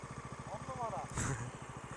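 Kanuni Seha 150 motorcycle engine running steadily at speed near its top end, a continuous mid-pitched drone with wind noise as someone talks over it.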